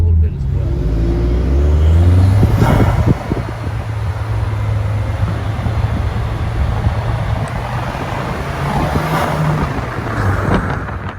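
A car fitted with a Nismo intake drives along, its engine a steady low drone with one brief swell of revs near the start, with a fan-like whoosh mixed in and a voice talking over part of it.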